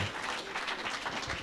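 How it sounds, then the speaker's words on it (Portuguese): A church congregation applauds with steady, dense clapping that holds at an even level throughout. "Um aplauso ao Senhor."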